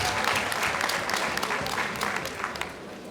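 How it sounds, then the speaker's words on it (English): A crowd at a prayer-for-the-nation gathering claps in a dense, steady burst, with no voices over it. "Come on, let's give the Lord a round of applause."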